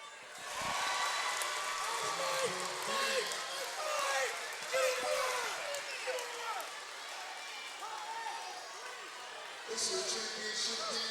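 A gym crowd at a 2013 elementary school boys' basketball championship cheers and roars steadily, with sneaker squeaks and a swell of noise near the end, while commentators talk over it.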